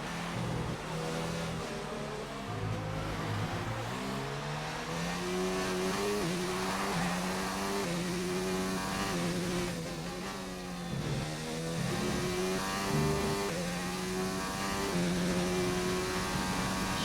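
Race car engine in F1 2019 on a final lap, revving continuously and loudly with rising and falling pitch through gear changes, steady and close throughout with no talk.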